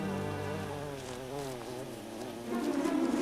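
Worker honeybees buzzing in a steady, close, wavering drone that swells slightly louder near the end.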